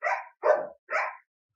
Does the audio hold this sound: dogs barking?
yes